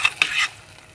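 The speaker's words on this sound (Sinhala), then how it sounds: "ඒක දාලා අපි දැන් කවලම් කරනවා" Pongal rice ingredients being stirred together in a pot with a spoon, giving two or three brief, close scraping swishes followed by a softer sizzling hiss that fades, with no speech.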